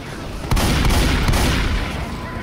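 A few shotgun blasts in a video game, heavy booming shots over a dense noisy game background, loud and near.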